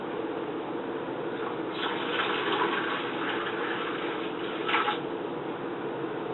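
Water is poured into a pan for making sugar glass, a soft, steady splashing and trickling with a couple of brief louder gushes, heard alone at a low level.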